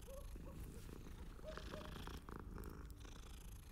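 A cat purring in the video game Hogwarts Legacy: a low, continuous rumbling purr that is steady and close, quiet under a faint ambient background.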